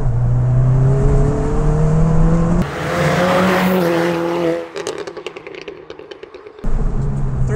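Ford Fiesta ST Mk7 tuned by REVO to 330 horsepower, its engine note rising loudly and steadily through the gears, then cutting abruptly with a crackling, popping burst before the drone returns near the end.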